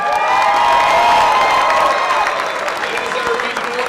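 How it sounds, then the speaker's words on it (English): A banquet audience at a regional roadeo event applauds loudly with some cheering, a dense steady wash of clapping that gradually thins out. "Let's give Ed a big round of applause."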